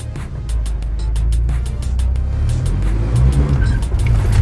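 A manual car doing a little burnout, the engine roaring close and loud with rising tire noise and squeal throughout, no voices.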